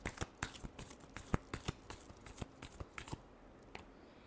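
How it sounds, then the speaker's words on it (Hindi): Tarot cards being shuffled by hand in a quiet room, a run of crisp riffling flicks and slaps in an uneven rhythm that thins out and stops near the end. "last shuffle"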